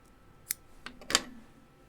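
Scissors snip wicking cotton for a SMOK TFV12 vape coil build, giving two or three sharp, close clicks spaced apart in a quiet room.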